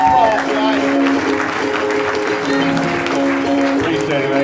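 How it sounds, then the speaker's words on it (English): Audience applause at a comedy showcase night as comedian Shane takes the stage, a steady, loud wash of clapping with crowd noise and overlapping talk and music throughout. "Give a good round of applause, guys."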